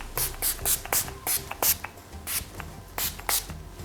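Makeup setting spray misted in several quick hissing bursts from close by, one after another in an uneven rhythm, with soft handling sounds between the sprays.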